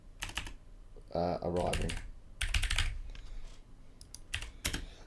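Keys clatter on a computer keyboard in quick bursts, close by, with someone speaking briefly between the runs of typing.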